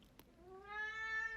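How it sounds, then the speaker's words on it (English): An elderly female cat lets out a single drawn-out meow, soft and fairly close, after a brief click in a quiet room. "my old lady cat, Awaz."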